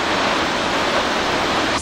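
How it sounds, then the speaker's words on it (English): A small waterfall in Twin Falls, Idaho gives a steady, loud broadband rush of falling water, continuous and close with no voices over it. "here's the waterfall"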